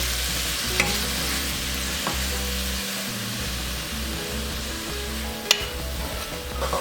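Milk and red-coloured coconut mixture are stirred quickly in a hot pan, a steady hissing sizzle with a few sharp utensil knocks over a low droning hum, nobody speaking.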